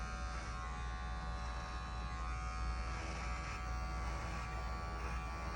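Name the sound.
electric hair clipper cutting a fade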